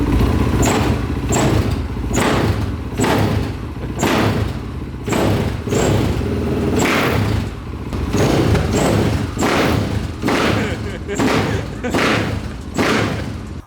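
A KTM EXC 530 supermoto engine revs repeatedly in rhythmic bursts, loud and close, each rev rising and dropping back, with voices talking underneath.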